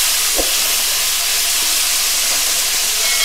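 Dragon chicken frying over high flame in a pan, a steady broadband sizzle and hiss with a faint knock near the start.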